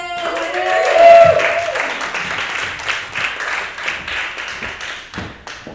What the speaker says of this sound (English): Keep it going for Mark Addison!